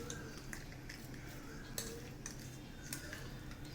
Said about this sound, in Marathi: आता हे सगळं मी व्यवस्थित हलवून घेते.